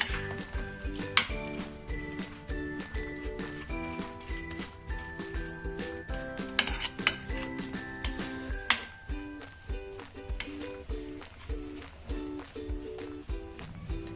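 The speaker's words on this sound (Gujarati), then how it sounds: "આને બધું સરસ મિક્સ કરી લેશું" A spoon repeatedly clinks and scrapes against a bowl while mixing papaya with sugar, in an uneven rhythm over soft background music.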